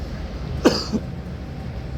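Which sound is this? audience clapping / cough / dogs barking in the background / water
cough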